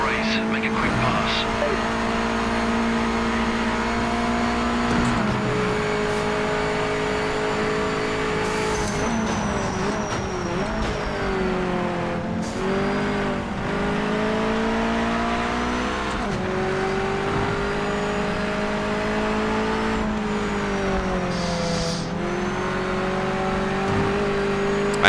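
Mazda Miata race cars in the racing video game Project Motor Racing, lapping the Northampton circuit with a continuous engine whine that climbs and drops through the gears, along with brief tire squeal and someone talking over it.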